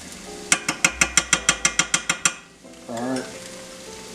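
Fresh minced garlic and vegetables sweating in a pan for Cajun seafood pasta: a quick run of about a dozen even, sharp knocks, then a brief hush and a soft sizzling hiss with light stirring.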